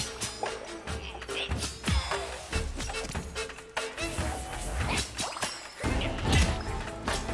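A heavy hammer weapon smashes and whacks through enemies in the action roguelike Have A Nice Death, with repeated impact hits and swishes over busy game music and effects.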